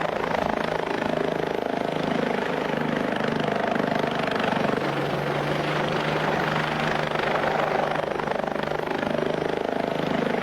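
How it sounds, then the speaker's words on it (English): Steady helicopter rotor and engine drone, loud and continuous with dense broadband noise and a low pulsing hum, no voices. "Helicopter."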